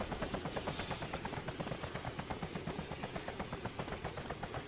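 A helicopter in the video game DayZ thrums with a rapid, regular rotor chop over a steady engine whine, constant and fairly close, with no talk.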